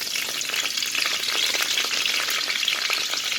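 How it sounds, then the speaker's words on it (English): Curry leaves and mixed herbs fry in hot oil with a steady, dense crackling sizzle, close and fairly loud, dotted with small pops throughout and no talk. "Let it fry for a few seconds."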